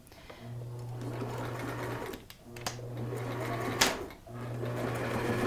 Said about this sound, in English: we're going to stitch that together with a straight stitch